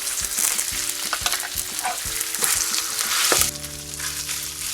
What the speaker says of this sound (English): what you want to hear is a nice hot sizzle